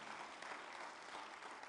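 A church congregation applauds at a Spanish-language service, producing a dense, even patter of many hands clapping, faint and distant with no breaks.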